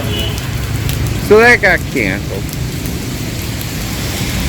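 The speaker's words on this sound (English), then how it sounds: "And it's raining here in Butuan City. Pretty hard." Heavy rain falling hard in Butuan City, a steady broadband hiss that continues throughout with a person briefly speaking over it near the middle.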